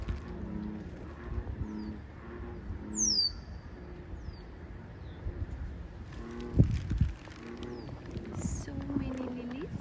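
Birds call at Juanita Bay Park, with brief high chirps and whistles, some near and some faint, under people talking nearby.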